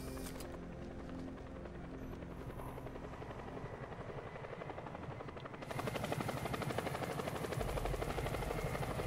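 A helicopter in Batman: Arkham Knight thumps steadily and close up, the engine drone growing louder and more intense partway through, with no talking.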